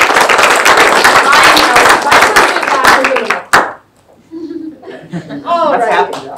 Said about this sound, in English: round of applause for Vice President Riggins for loading them